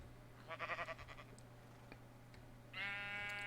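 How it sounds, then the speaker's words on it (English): Sheep in the Minecraft video game bleating twice, a short wavering bleat followed after a pause by a longer, louder one, over a steady low background hum. "Just fall down in there, sheep."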